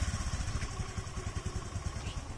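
A petrol engine on a hybrid-converted scooter runs steadily at idle, a close, rapid chugging pulse with a light mechanical clatter throughout, no voices.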